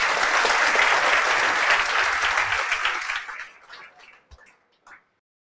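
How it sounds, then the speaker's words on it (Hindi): Enthusiastic applause from a classroom audience welcoming back a speaker at a topper's talk event, loud and dense for about three seconds before thinning into scattered claps and dying out. "वापिस सर के लिए जोरदार तालियां भाई"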